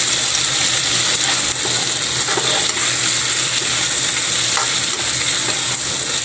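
Octopus tossed into a pan of sautéing bok choy, giving a loud, continuous sizzle and frying hiss with faint stirring clinks throughout.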